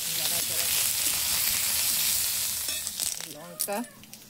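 Pointed gourd frying in hot oil for a Bengali potato-and-gourd curry, a steady close sizzle that fills the first seconds, then eases into sparser crackles and spits as the pan settles.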